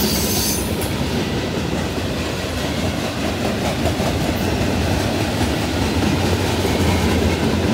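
Freight train cars, including autoracks, refrigerator cars and coal cars, roll steadily past on the rails, a continuous loud rumble of wheels with faint squealing and clacking, no voices.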